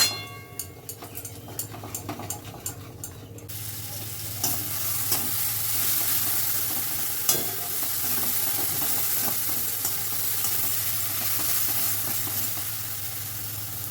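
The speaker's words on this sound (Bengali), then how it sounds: "মশলাটা ভালো করে কষিয়ে নিয়েছি" Spice paste with chili powder and a splash of water sizzles and fries in a pan while being stirred, scraping spoon strokes knocking steadily at first, then a continuous loud hiss of frying with intermittent stirring clicks.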